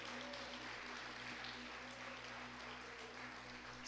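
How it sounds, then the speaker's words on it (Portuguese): A church congregation applauds steadily in a dense, even wash of clapping that holds at a fairly constant level throughout without talk. "dê um forte aplauso ao Rei"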